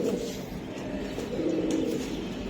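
A racing pigeon coos nearby in a low, continuous, throaty rumble that carries on without a break for the whole moment, with no voices.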